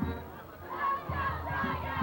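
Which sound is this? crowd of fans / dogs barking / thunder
crowd of fans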